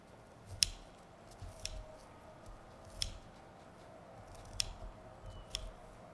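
Plants cut for chicken fodder with scissors or shears, giving several sharp, crisp snips spaced a second or more apart over a faint rustle of foliage, close and with no talk.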